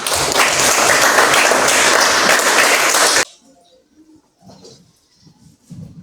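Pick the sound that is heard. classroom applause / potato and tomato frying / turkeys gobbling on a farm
classroom applause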